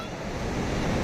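Sea waves washing in, a close, steady broadband roar of surf and water with some wind, filling the short moment on its own without talk.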